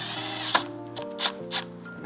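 A power tool drives screws back into a Mercedes Sprinter NCV3 van, with short whirring runs broken by sharp clicks and brief bursts of higher-pitched spinning, close and moderately loud with no talking.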